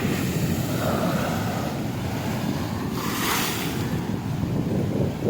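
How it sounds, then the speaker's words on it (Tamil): Rough sea surf pounds the beach at Kanyakumari, a loud continuous roar of breaking waves with heavy wind buffeting the microphone and a surge that swells midway, no voices. "உங்களுக்கு கடல் அலை வரது தெரியுதா?"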